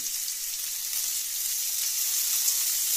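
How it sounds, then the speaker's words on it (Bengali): Chopped mango sizzles in a hot pan of oil for Bengali mango dal, a steady, close, bright frying hiss that holds evenly for the whole few seconds with no voices. "হালকা করে একটু আমটাকে ভেজে নিতে হবে।"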